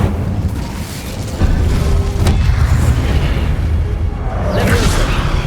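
The Incendio fire spell goes off in Hogwarts Legacy as a loud booming burst of flame, followed by a roaring rumble and crackling whoosh that rises again toward the end.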